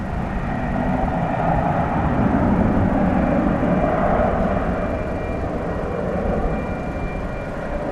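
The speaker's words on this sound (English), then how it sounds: "That's a Dreamliner, of course, about to make its long, long journey across the Pacific." A Boeing 787 Dreamliner jet roars steadily at DFW Airport at night, a loud, continuous broadband engine rumble that holds constant throughout without pause.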